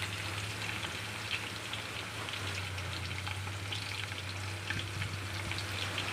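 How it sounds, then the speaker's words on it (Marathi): Garlic fries in a pan while being stirred, a continuous crackling sizzle with a low background hum, close but fairly quiet, and no voices. "थोडंसं असं हलवून घ्यायचं आहे, म्हणजे चांगला लसूण तळला जाईल"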